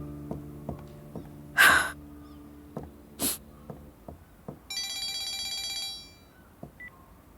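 A mobile phone rings indoors for about a second, a bright tonal chime after several soft knocks, a loud sniff and footsteps, then fades out.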